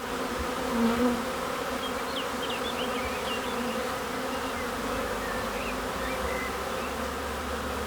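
Honeybees buzzing steadily around a handmade rye-straw skep hive, a dense continuous hum with individual bees droning past up close, no voices.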